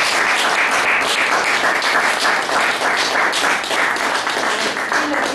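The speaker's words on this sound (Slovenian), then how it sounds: "Čestitamo, ok, zaploskamo." Audience at an eco-village lecture bursts into sustained, dense applause, steady loud clapping from many hands for several seconds, with faint voices mixed underneath.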